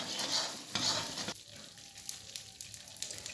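Flour roasting and being stirred in a pan for sugar adadiya, giving soft scraping strokes with a light sizzle, then quieter scattered stirring taps.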